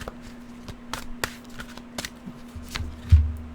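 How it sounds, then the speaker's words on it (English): Oracle cards get a quick shuffle, a close series of soft papery riffles and taps with a faint steady hum underneath, ending in a slightly louder thump. "quick shuffle."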